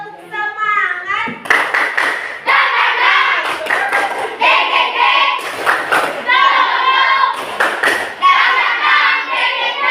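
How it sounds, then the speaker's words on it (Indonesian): Schoolchildren in a classroom clap a rhythmic chant in bursts, sharp hand claps alternating with sung and spoken phrases from the group and their teacher. "Kita tepuk semangat dulu ya"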